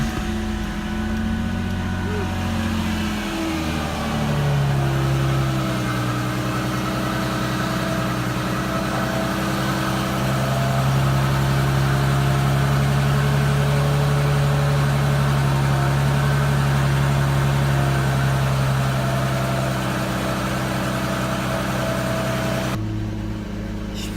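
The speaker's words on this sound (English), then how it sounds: "Pretty loud for a stock V6 with nothing but the stock exhaust pipe." A 1999–2004 Ford Mustang V6 engine idles steadily through its stock exhaust with a low, throaty rumble, close by and fairly loud, with a brief pitch rise early on.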